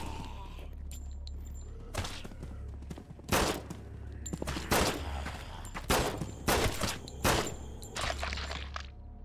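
Bursts of gunfire in a co-op VR zombie survival game, with several rapid volleys and single loud shots scattered across the clip over a low background rumble, heard without speech.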